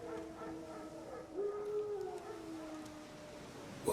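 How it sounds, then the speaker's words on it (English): Wild dogs howl in The Witcher 3, with a long rising and falling wail over a quiet hum, fading after a couple of seconds, and a brief burst of noise at the end. "Wolves? No. Wild dogs."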